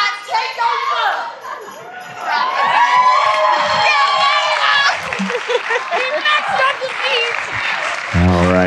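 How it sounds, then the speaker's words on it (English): Guests at a wedding reception at Dulany's Overlook in Frederick, Maryland, burst into clapping, cheers and excited shouts for the bride's sisters, with children's voices and chatter mixed into the lively, close-up crowd noise. "great big round of applause for the sisters of our bride"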